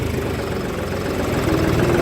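A John Deere 5310 tractor engine runs steadily and loudly in third gear, its low rumble holding a constant drone with a faint rise in pitch near the end.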